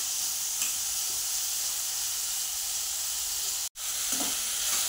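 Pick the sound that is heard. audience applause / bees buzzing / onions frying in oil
onions frying in oil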